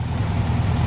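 A car engine idles steadily on a test run after carburettor work, a low continuous rumble heard up close and alone, with no speech.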